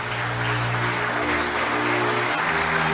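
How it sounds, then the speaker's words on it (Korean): Dense applause from a church congregation at a large headquarters worship service, steady broadband clapping under a constant low tonal hum from the hall. "박수로 성원해 주시기 바랍니다"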